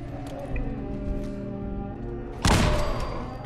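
A frag grenade goes off in Fallout 4 with a heavy, close thud and a burst of noisy debris after a stretch of droning game ambience.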